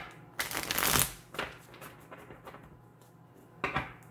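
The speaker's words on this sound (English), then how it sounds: "So these have been pre-shuffled. Just gonna give it a couple more and then get the layout." Pagan Tarot cards are riffle-shuffled up close in a few quick bursts, a sharp flurry of papery flutters followed by softer shuffles and a final brisk riff.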